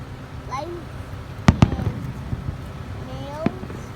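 Outdoor night fireworks pop in a quick cluster of sharp bangs followed by a single later crack, moderately distant above a rumbling backdrop while people talk and call out.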